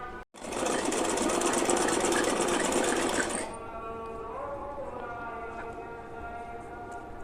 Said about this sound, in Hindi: किनारों को भी हम सिलाई लगा लेते हैं, दोनों किनारों को, और ऊपर भी एक सिलाई लगा लेते हैं